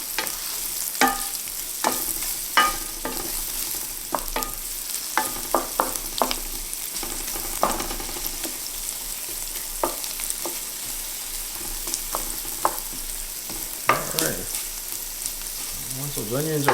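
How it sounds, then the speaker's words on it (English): Onions fry in a pan for keto steak fajitas, a steady close sizzle broken by frequent spatula scrapes and taps as they are stirred around. "I can stir around the onions a little bit"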